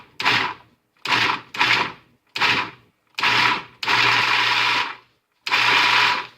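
A blender pulses raw egg roll filling in loud bursts, several short whirring pulses separated by silence, then a couple of longer steady runs, close and alone.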